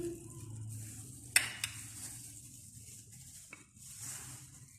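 Spices being stirred and mixed into yogurt in a pan for mutton chops: a soft, continuous scraping stir with a faint sizzle, broken by a couple of sharp clinks of a spoon against the pan.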